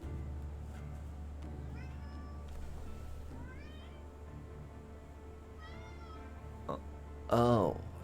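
Cat meows in the Graveyard Keeper game, several short rising-falling calls scattered through a quiet backdrop with a low steady hum, ending in one louder, longer meow near the close.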